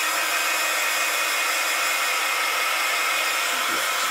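A heat gun blasts hot air onto a glued craft piece, a steady, close, loud airy whoosh with an even motor hum running unbroken from start to finish.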